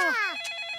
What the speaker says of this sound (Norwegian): Mobiltelefonen til pappa ringer.